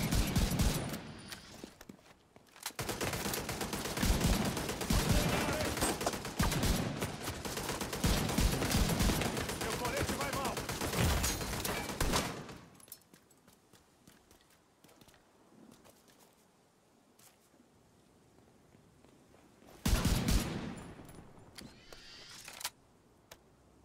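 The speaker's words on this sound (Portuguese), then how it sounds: "Ativando a torreta!" Automated turret in The Division 2 firing long sustained machine-gun bursts, loud and continuous for about ten seconds, then quieter ambience with scattered clicks before a second short burst.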